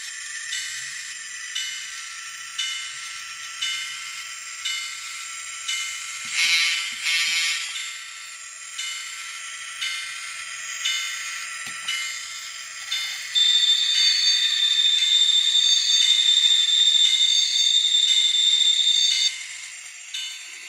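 Kato N scale CB&Q F3A model locomotive with an MRC sound decoder runs at close range, giving a steady electronic motor and mechanism drone with regular clicking pulses, then a sustained high tone partway through.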